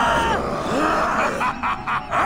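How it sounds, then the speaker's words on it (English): A character in the For Honor Viking campaign screams and groans, with wavering vocal cries close and loud, broken into short bursts toward the end. "Just gonna stand around and scream"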